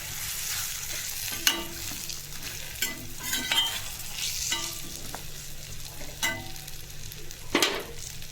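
A spoon scrapes and clinks against a pan in repeated strokes, stirring spices over a quiet, steady sizzle of frying.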